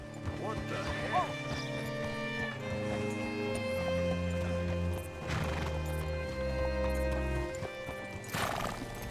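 Horse hooves clip-clop at close range in Red Dead Redemption 2, with a couple of neighs and whinnies and a crashing thud, while voices speak over the game sounds.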